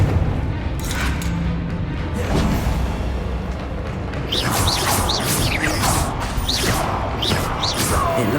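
In Hogwarts Legacy, a Confringo blast curse explodes amid a dense, continuous roar of rumbling booms and crackling debris, with chirping game effects layered over it.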